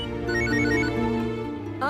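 A telephone rings on in an indoor domestic scene from a Tamil TV serial, a steady electronic tone sounding loud and close throughout with no talking.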